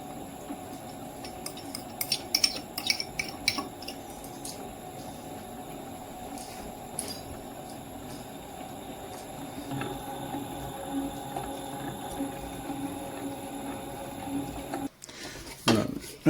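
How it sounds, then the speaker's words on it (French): A dough hook kneads brioche dough in a kneading machine, giving a steady mechanical hum with light metallic clinks and rattles at moderate distance, ending in a few louder knocks. "on lance le pétrissage en ajoutant peu à peu la levure délayée"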